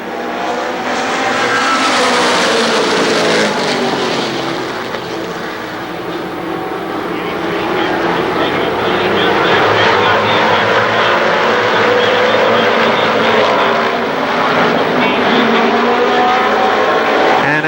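Late model stock cars roar down the front straightaway at Winchester Speedway, a loud sustained engine drone that swells and recedes as the pack passes, filling the whole stretch.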